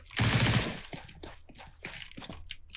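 Gunfire in Counter-Strike 2 on Dust2: a loud burst of rapid shots up front, followed by several sharper, spaced cracks over a few seconds.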